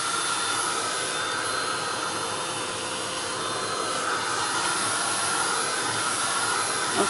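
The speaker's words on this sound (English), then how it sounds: "I'm going to go another quick waft with my heat tool" A craft heat tool blows hot air in a steady, close, continuous whoosh-hiss while drying paint on a tag, holding an even loudness throughout with no talking.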